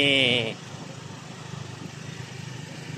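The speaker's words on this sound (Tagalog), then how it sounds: "Sakay ako sa motor." A motorcycle being ridden on a rural road, with steady engine and road rumble throughout, plus a brief voice at the start.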